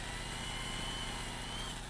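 A power drill bores into porous antler, its motor whining in a steady, close, continuous drone with a faint higher tone over it and no pause.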